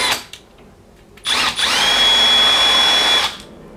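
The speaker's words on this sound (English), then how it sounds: "You drill it out" A power drill drilling out a 4 mm screw whirs briefly, then runs at high speed for about two seconds with a steady whine before stopping.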